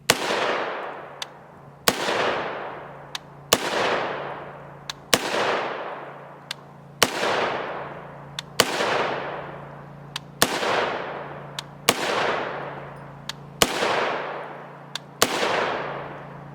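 Ten sharp, loud rifle shots from a 7.5-inch-barrel PSA 300 Blackout build with a 1-in-7 twist, firing 110gr TAC-TX rounds outdoors, spaced evenly about every second and a half, each followed by a long decaying echo.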